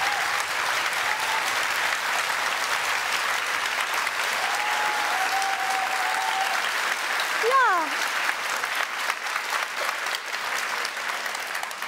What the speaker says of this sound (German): Einen ganz großen Applaus und vielen Dank